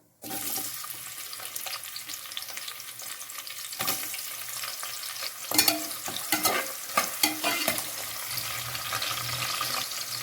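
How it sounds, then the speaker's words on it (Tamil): Whole spices and sliced onions fry in hot oil for Thalappakatti-style dum biryani, a steady close sizzle broken by scraping stirs and a few louder clatters midway. "இதை அப்படியே எண்ணெயில் போட்டு வறுத்துக்கலாம்"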